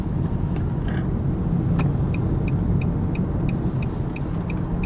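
A 2018 Nissan Leaf electric car cruises and overtakes on the road, giving a steady low road and tyre rumble throughout with faint high electric whine tones pulsing above it, and no talk.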